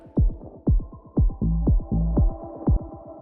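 A full music track muffled by a low-pass filter on the master bus, its highs stripped away to leave dull, thumping low-end pulses and muted chords in a steady rhythmic loop.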